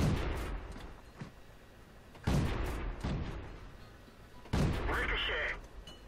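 In World of Tanks, a Type 95 Ha-Go's cannon fires, and the booming shots and shell impacts against tank armor come in three heavy bursts with ringing decay between them, with someone talking over part of it.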